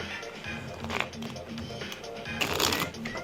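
Papery riffling of a deck of cards being shuffled, a steady rustle with a couple of sharper bursts, close by.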